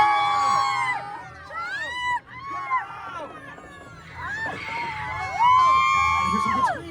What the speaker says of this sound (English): Here's some good screams.